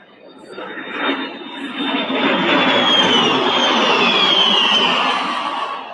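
A Vampire jet aircraft makes a flypast at a South African Air Force display, a loud broad roar building within seconds and holding steady with a high whine that sweeps downward as it passes overhead.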